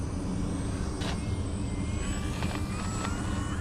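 An FMS warbird radio-controlled airplane with its engine throttled back for landing, a steady mid-distance hum with a faint whining tone that shifts slightly in pitch.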